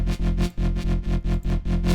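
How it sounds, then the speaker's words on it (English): Synth patch in Vital with LFO-driven distortion drive and chorus, a gritty buzzing tone pulsing in rapid rhythmic bursts as the distortion swells and dips, loud and alone. "Put the drive on the LFO as well, so we drive up and down the distortion so it gets a bit like dynamic"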